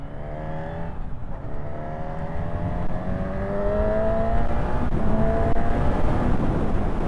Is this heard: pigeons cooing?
no